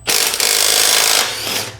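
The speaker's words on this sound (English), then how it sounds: "this Stubby, after proving its worth to us multiple times, gets to take off a swing arm bolt" A Stubby impact tool rattles out a motorcycle swing arm bolt on a Kawasaki ZX6R in a loud, close, continuous hammering burst that eases briefly near the end.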